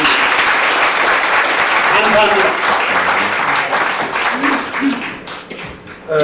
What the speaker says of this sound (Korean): 마지막으로 뜨거운 박수 다시 한번 부탁드립니다